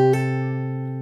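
Fingerstyle acoustic guitar hammer-on played while a bass note is held down: sustained ringing chord with a quick second attack early on, then a long, even decay with no talk.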